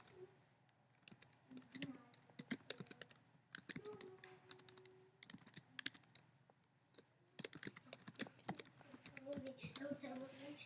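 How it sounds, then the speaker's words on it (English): Rapid clicking of keys on a computer keyboard as a new row of records is typed into a table, with bursts of quick keystrokes and a pause in the middle, close and clear, while some voices sound faintly in the background. "go ahead and hit tab and type in our new row"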